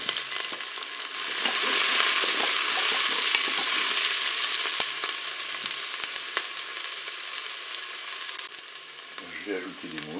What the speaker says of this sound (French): Je vais pouvoir mettre mes oignons. Et ajouter mes poivrons.